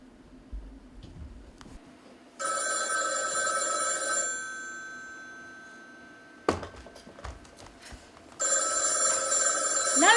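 An old-style telephone bell rings in two long bursts on a theatre stage during a college showcase play, loud and close, separated by a quiet gap with a thump, with no speech over the rings.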